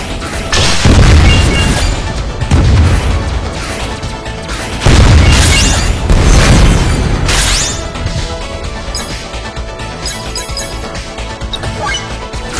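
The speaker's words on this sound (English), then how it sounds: "Frozen rocket." Frozen rocket skill explosions in a video game, several heavy booming blasts with crashing debris, the loudest bursts coming in clusters and then trailing into a busy, ringing tail.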